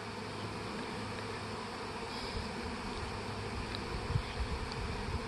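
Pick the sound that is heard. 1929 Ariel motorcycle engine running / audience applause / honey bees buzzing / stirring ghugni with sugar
honey bees buzzing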